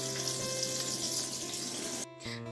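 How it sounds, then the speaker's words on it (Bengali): Eggplant slices frying in a pan, giving a steady sizzle with a hissing wash that continues throughout, then a brief dip near the end, and no talk. "আর তার সাথে আমি একটু বেগুন ভাজা করে নিচ্ছি।"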